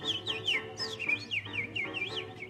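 A woman imitates birdsong with her voice, producing a rapid series of high, realistic chirps and whistled trills that rise and fall, close and fairly loud over light room tone.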